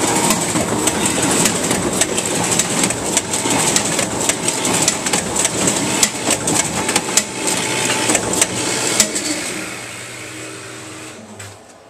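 DUPLO 4000 twin tower collator and bookletmaker running, a loud dense mechanical clatter with rapid repeated clicks and rattles that fades out toward the end.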